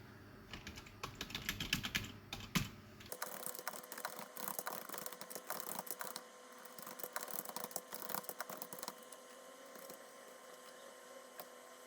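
Rapid, continuous clicking of a computer keyboard as text is typed into a table in Microsoft Word, close and steady, with a brief louder burst of keystrokes at the start.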